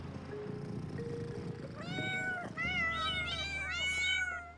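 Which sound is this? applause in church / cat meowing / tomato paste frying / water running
cat meowing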